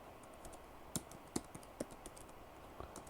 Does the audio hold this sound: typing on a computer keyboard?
yes